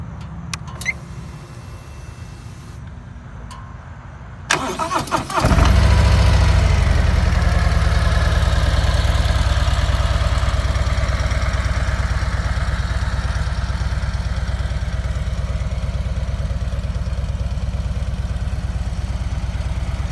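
A 2020 Harley-Davidson Tri Glide Ultra CVO trike engine cranks with a few quick clicks, then catches and settles into a loud, steady, deep idle rumble that runs on alone, close by and unbroken.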